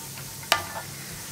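Onions tipped into a pan of frying mixed vegetables for a Kerala thoran, giving one sharp hiss as they land, followed by a brief fading sizzle.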